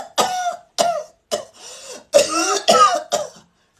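A person coughing openly without covering the mouth, six or seven separate harsh coughs in an uneven rhythm, close and loud with short silences between.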